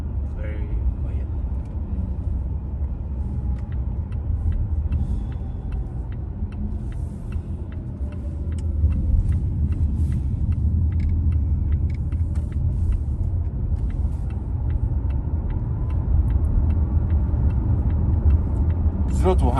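A 2022 Volvo XC40 Recharge P8 pure electric SUV drives and accelerates, with a steady low road rumble and tyre noise filling the cabin and swelling as it picks up speed. Faint ticks sound throughout.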